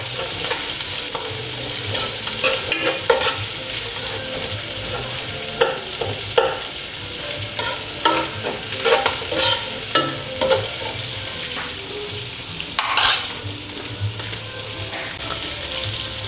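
Onion and garlic sauté in a hot pan with a continuous sizzle, broken by repeated scraping and stirring clicks from a utensil, close and alone without talking.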